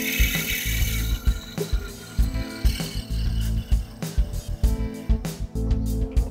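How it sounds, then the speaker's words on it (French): Olive wood pen blank being drilled on a lathe during pen turning, giving a continuous grinding, chattering whine with rhythmic rattling and knocks as the bit bites and is backed out. "On va maintenant le percer."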